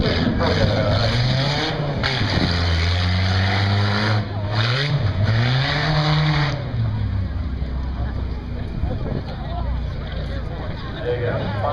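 Special edition Toyota Celica drag racing at Buck Motorsports Park, its engine revving through rising and falling pitch sweeps and then roaring steadily down the strip, loud and continuous, with a crowd murmuring and an announcer talking over it.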